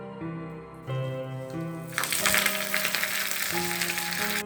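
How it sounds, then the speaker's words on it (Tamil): Spices for tempering sizzle loudly as they hit hot coconut oil in a small kadai, a bright steady crackle that rises sharply midway and holds over quiet background tones. "ஸோ ஃபைனலாக தாளித்து விடுறதுக்காக சின்ன கடாய் வச்சுருக்கிறேன்."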